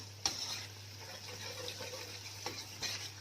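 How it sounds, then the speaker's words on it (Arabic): Garlic and onion frying in a pan for stuffed mumbar: a soft, steady sizzle close by, with a few brief stirring scrapes and clicks, quiet over a low background hum. "هنحمر كده التومه مع البصله، بتديها طعم حلو قوي"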